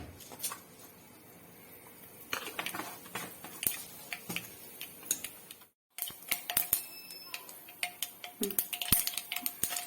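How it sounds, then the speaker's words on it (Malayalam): Mustard seeds splutter in three to four spoons of hot oil for a Kerala-style ginger curry, giving close, sharp, irregular pops and crackles that run throughout with a brief silent gap midway. "ഒരു 3-4 സ്പൂൺ എണ്ണയ്ക്ക് ഒഴിച്ചിട്ടുണ്ടമ്മ. കടുകിടാം."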